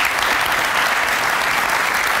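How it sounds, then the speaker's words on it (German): Dense, sustained applause from a biathlon crowd, loud and even throughout with no pauses. "Euphorie im Publikum."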